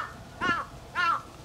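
A crow on a mountain gives two clear, fairly loud caws, evenly spaced about half a second apart, with quiet open air between them.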